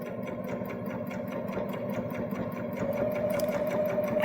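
A Baby Lock Jazz II sewing machine runs steadily, stitching single fold bias binding through a bias binder attachment and over a seam, with a continuous close, even mechanical hum and rapid needle rhythm throughout, no talking.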